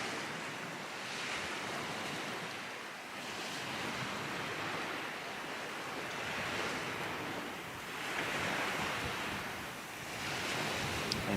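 Wind-whipped waves wash across Lake Chelan in winter, a steady broad roar of surf and wind buffeting the microphone, swelling and easing in slow surges with no voices.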